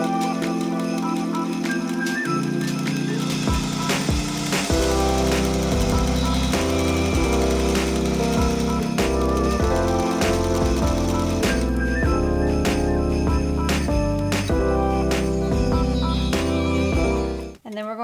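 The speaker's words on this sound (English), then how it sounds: "I'm going to go ahead and serge it together like this" A serger stitching a fabric strip, a loud, close mechanical whirring and rapid buzzing that runs almost unbroken for about seventeen seconds, then stops abruptly.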